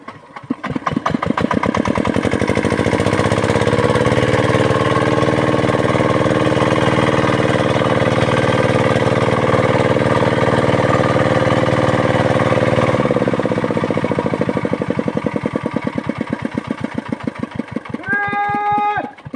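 A Hero machine engine idles steadily and loudly with a low, even drone for most of the stretch, then winds down near the end; a brief voice cuts in at the close.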